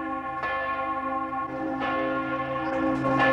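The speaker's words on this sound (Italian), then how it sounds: "Hanno risuonato ovunque per tutto il giorno queste campane, sono per il Santo Padre" Church bells ring steadily in honour of the Pope on the day of Pope John Paul II's death, with sustained overlapping tones and periodic fresh strikes renewing the peal, loud and without speech.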